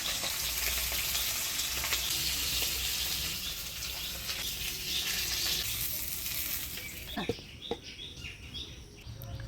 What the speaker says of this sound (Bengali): মাছগুলো ভেজে নিলাম, এবার নামিয়ে নেব।